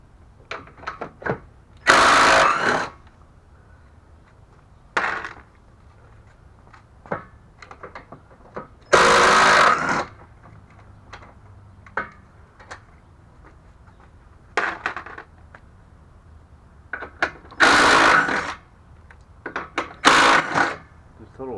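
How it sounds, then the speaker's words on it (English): Metallic ratcheting and clanking of tools undoing bolts on a 2008 Nissan Altima 3.5L during an alternator replacement, coming in several loud bursts separated by quieter clicks and handling noise. "We're going to undo all the bolts,"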